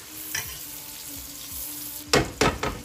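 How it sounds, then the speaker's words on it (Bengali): Whole cumin seeds fry with onions in hot oil, giving a soft, steady sizzle with a few louder scraping bursts of stirring near the end and no voices. "পেঁয়াজের সাথে ভাজা হয়ে যাবে।"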